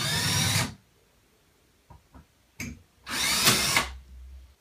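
A handheld power drill loosens long screws on a ceiling light fixture: a loud whir in a short burst, then a few faint clicks, then a second sustained whir, close by with no talking.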